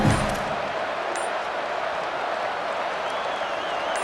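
Stadium crowd in the EA Sports College Football 27 video game swells into a broad, steady roar with scattered clapping, loud and continuous throughout.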